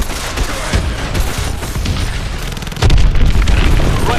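Missile blasts and heavy booms in the Call of Duty: Advanced Warfare fighter jet mission over a hydroelectric dam, dense layered explosions and crackling bursts rolling continuously, with a louder boom surging near the end.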